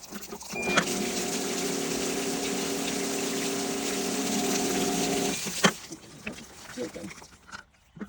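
A pool sand filter pump runs with water, a steady motor hum and rushing flow that holds evenly for about five seconds, then stops abruptly, leaving faint clunks and handling noises.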